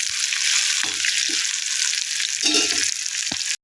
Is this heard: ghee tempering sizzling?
yes